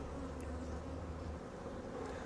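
Honey bees hum in a soft, steady drone from an open hive during an inspection of a brood frame with nurse bees, in a Demaree hive check. The buzzing is faint and continuous with no talking.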